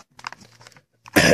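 A single loud, harsh cough bursts out at the end, following a few seconds of quiet, low murmuring.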